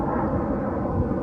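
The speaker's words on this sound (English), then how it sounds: "That's a fighter jet flying over." A fighter jet passes overhead as a broad, steady roar filling the clip, loud and continuous outdoors with no other sounds standing out.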